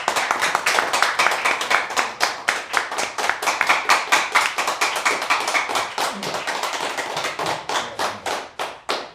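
Audience at a university forum applauding to welcome a guest speaker, dense brisk clapping that stays loud and steady for several seconds, thinning slightly toward the end.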